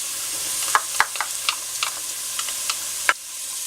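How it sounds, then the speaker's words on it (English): Onions, shredded carrots and celery sauté in a pan with a soft, steady sizzle, broken by sharp scrapes and knocks of a spoon as the vegetables are stirred, several taps spread irregularly. "Give it a good stir and continue sauteing for about a couple more minutes until they're nice and tender"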